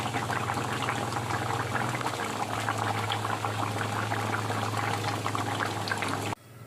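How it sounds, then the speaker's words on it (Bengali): Fish curry with potatoes and fried fish simmers in a pot, a steady dense bubbling and hiss throughout that cuts off abruptly near the end. "ভাজা মাছটা ঝোলে দিয়ে আরও 1 থেকে 2 মিনিট মতো আমি ফুটিয়ে নেব।"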